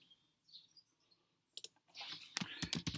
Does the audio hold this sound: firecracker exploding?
no